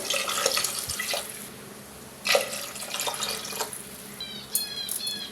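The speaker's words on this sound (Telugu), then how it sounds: "దీనిలో ఒక మూడు గ్లాసులు నీళ్ళు పోసుకోవాలి" Water from a glass is poured into a pot of mutton curry in several bursts, splashing and trickling close by with short drips between pours.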